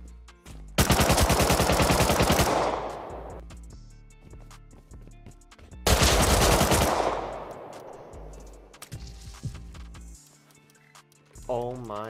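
Bursts of rapid automatic gunfire from the video game Rust, played on console, come in two loud sustained volleys with quieter game sounds and some talk in between.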